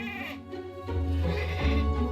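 Icelandic goats on a small breeding farm, bleating close by with a low drawn-out wavering cry that swells louder midway, alone without talk.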